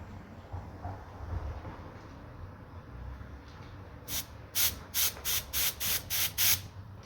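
Compressed air hisses out of an oil pressure gauge under repair. A faint steady leak comes first, then a run of eight short, sharp, evenly spaced bursts of hissing up close near the end. Nobody speaks.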